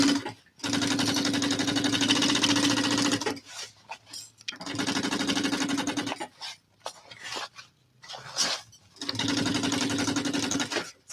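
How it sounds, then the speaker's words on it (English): A sewing machine runs a basting stitch on a backpack in three loud, steady bursts of rapid mechanical whirring, separated by short pauses with faint handling noises. "I'm just doing this as a basting stitch, just to kind of keep everything where it needs to be before I do the actual seam allowance stitch"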